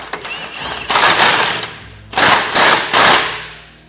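A power tool tightens a castle nut on a heavy-duty tie rod of a Polaris Ranger XP 1000, with two groups of loud, close rattling bursts separated by a short pause.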